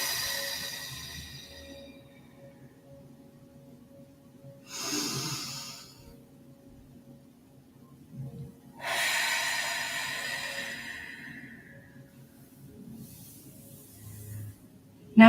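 Slow, deep breaths during guided relaxation, three long airy exhalations spaced several seconds apart with quiet pauses between, close and soft.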